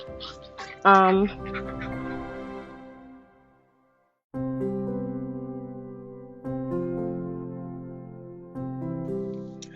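Ducks quack in short nasal bursts, some loud and close, with geese's longer honking calls continuing in steady intervals throughout.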